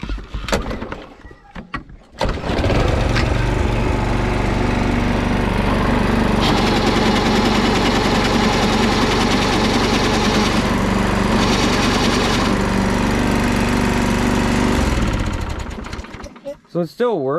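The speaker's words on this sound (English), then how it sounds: "I'll fire it up and show you what it's doing" Toro Recycler Personal Pace self-propelled lawn mower with a bad transmission, started up and running at a steady loud drone with a rattling, grinding quality for about fifteen seconds before shutting off, heard close up.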